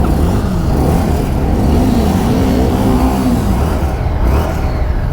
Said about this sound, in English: We're going to pull clutch lever in, turn this on, and press and hold the start button.